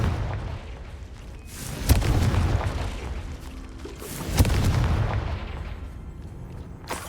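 Confringo spell blasts in the Hogwarts Legacy video game, two sharp booming explosions a few seconds apart, each with a rumbling tail over a low ambient bed, with no talking.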